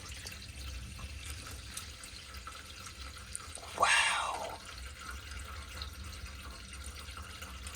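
Water drains out of a Weil McLain Ultra boiler with an ignition failure, a faint background trickle broken by one short, louder gush midway; someone speaks briefly.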